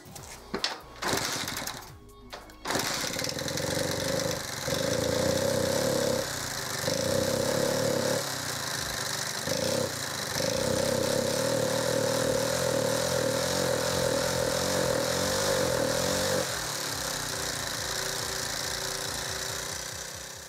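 A small Alpha 110 moped engine with a spark fault sputters to life after a few rough starts, then idles with a steady, buzzy chatter that rises and dips for a while.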